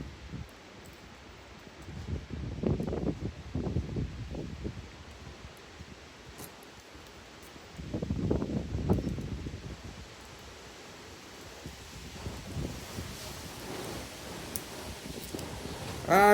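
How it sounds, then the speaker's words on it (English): Soft gusts of hurricane wind buffet and rumble in waves, rising and falling over a steady outdoor hiss, with no voices. "Ah, it's so windy."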